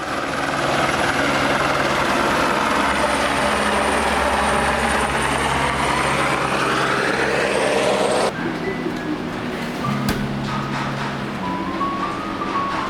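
A helicopter flies over the high Tibetan landscape near the town of Timure on the Kailash Kora trek, its loud rotor throbbing steadily before the sound drops suddenly and continues more faintly.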